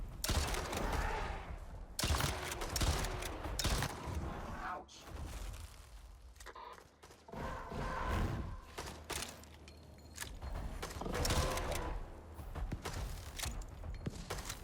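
Gunfire in the survival video game Icarus, with dense bursts of shots and clattering mechanical sounds running almost the whole time at a steady, loud level.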